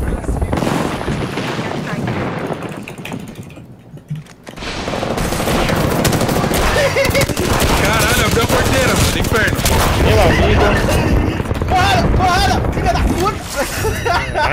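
Dense, sustained gunfire in the video game Apex Legends, with bursts and booms, fills the scene, loud throughout after a brief quieter dip, with voices talking over the shooting.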